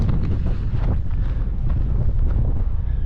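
Steady, loud wind buffets the microphone on Stanage Edge above the Hope Valley, a continuous rough rumble with gusty flutters and no voices.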